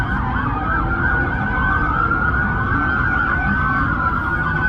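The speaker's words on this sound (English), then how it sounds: "I mean, there's probably 100 police cars here." Several police sirens wail together at once in Bayside, overlapping rising and falling tones over a low rumble of traffic, loud and continuous.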